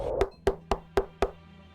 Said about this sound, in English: The knocking grew louder, more demanding.